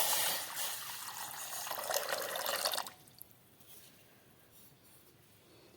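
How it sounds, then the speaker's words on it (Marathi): A glass of water pours into a cooking pot while making sabudana kheer, a loud steady splashing stream lasting about three seconds, then stopping and leaving a quiet room. "तर मी इथे 1 ग्लास पाणी ओतते"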